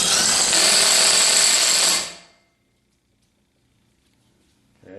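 An impact wrench with a socket runs on the rod-end nuts of a Direct Lift Pro Park 8S hydraulic cylinder, a loud continuous rattling burst for about two seconds before cutting off into near silence.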